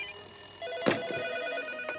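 A telephone rings indoors in a Hindi film scene, a short bright electronic ring with a sharp burst near the middle, fairly quiet and heard alone without talk.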